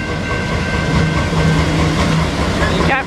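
A CN freight train rolls out on the Halton Subdivision, a loud steady rumble with rhythmic wheel clatter, heard close and continuous throughout, with a brief horn or squeal at the end.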